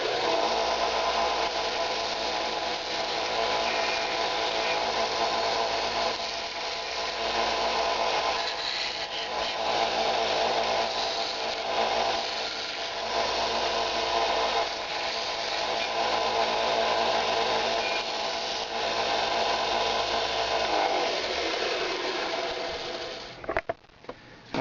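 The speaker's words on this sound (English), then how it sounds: "Here we got our belt sand. This does a nice job for just little touch-ups." A belt sander with 120-grit belt touches up the edges of a Kydex pocket holster, grinding in a continuous, fairly loud drone that stops abruptly at the end.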